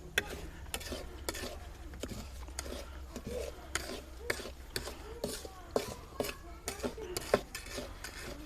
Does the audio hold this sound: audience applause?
no